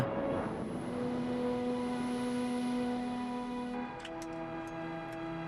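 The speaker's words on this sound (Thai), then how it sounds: "จากแองโครเร เขาจะบินไปกับพอสู่ดินแดนที่ไร้ถนน เข้าถึงได้ด้วยเครื่องบินเล็กเพียงทางเดียว" A small bush plane drones over roadless Alaskan wilderness, its engine a steady tonal hum that shifts pitch near the end as it passes, with faint ticking on top.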